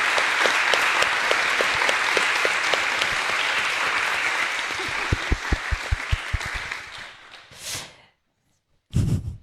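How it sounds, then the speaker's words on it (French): Loud audience applause for a birthday tribute to Clotilde and her team, dense clapping that thins to scattered claps and fades out, then a brief burst of noise after a short silence. "je vais vous demander de contribuer en applaudissant très fort Clotilde et son équipe"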